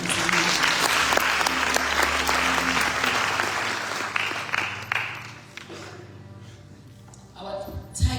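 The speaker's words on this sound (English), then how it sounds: "Can we clap hands for God?" A church congregation at an opening function claps together loudly for several seconds, then the applause thins out and fades into scattered claps and murmurs.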